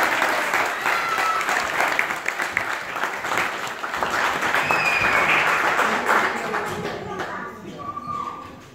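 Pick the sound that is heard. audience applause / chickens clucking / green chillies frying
audience applause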